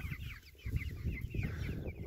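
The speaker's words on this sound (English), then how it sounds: "Look at the chickens eating." Chickens cluck softly in short, busy bursts, a few birds pecking and murmuring close by against a faint outdoor hum.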